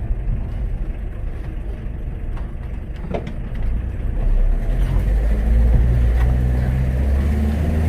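A VW T25 Vanagon T3 campervan pulls away, its engine rumbling low and building louder as it gets under way, heard from inside with road noise and no talking.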